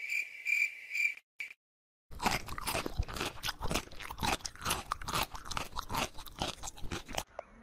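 Crunchy Kurkure snack being chewed close up, a rapid series of loud crisp crunches after a short high electronic tone and a brief silence.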